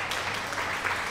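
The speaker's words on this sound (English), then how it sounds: "thank you very much for the applause." A short burst of crowd applause plays as a sound effect in a farming video game, dense steady clapping heard alone for about a second.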